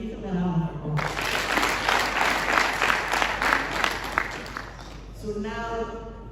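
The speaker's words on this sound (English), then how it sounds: "So can you give them a round of applause?" An audience claps loudly and steadily for volunteers at a community pitch day in Gambia, with a speaking voice briefly before and after the dense round of applause.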